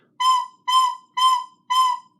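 Four separate recorder notes on the same pitch, each one starting and stopping with its own breath, evenly spaced about half a second apart, clear and close with short silences between them.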